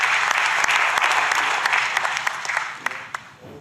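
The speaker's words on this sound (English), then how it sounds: "let's have one more round of applause, please, for the AFC General Secretary, Datuk Sri Windsor John" Audience applause at the live AFC Asian Cup 2023 draw ceremony, a loud, sustained crowd clapping with distinct individual claps, gradually thinning and fading toward the end.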